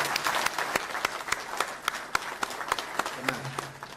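An audience at a gathering honouring former Zambian football leaders claps, with sparse, distinct hand claps ringing out in an uneven rhythm against a quiet room, moderately close.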